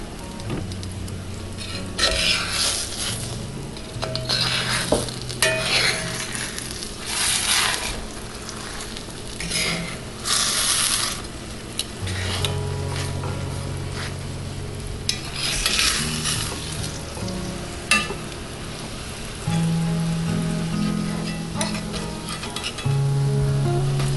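Flatbread tortillas cook on medium heat, giving a soft continuous sizzle with intermittent scraping and stirring sounds nearby.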